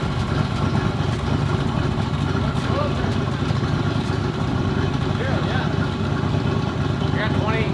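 A Ford Ranger with a 5.0 V8 and compound turbo setup idles steadily, a loud, continuous low rumble that stays even throughout, close by with no talking over it.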